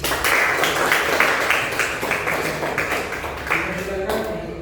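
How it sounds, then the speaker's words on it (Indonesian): Schoolchildren in a classroom clapping their hands together during a lesson, a few seconds of fairly loud, somewhat rhythmic group clapping close by that eases off at the end. "Tepuk tangan dulu."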